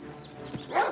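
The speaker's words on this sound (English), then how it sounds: "Oh, hello, invisible dog." A dog in the video game Oblivion Remastered gives a short, close bark or yip, a single brief call with faint background sound and no talking.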